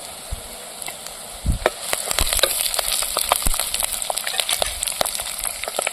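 Curry leaves and browned onions frying in a pan, with a quiet start and then a dense crackling sizzle and spattering building up close, along with occasional stirring knocks and no talk.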